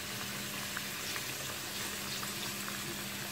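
Potato slices fry in a pan for a golden crust, giving a steady, dense sizzle and bubbling hiss that stays even and close throughout, with no talking over it.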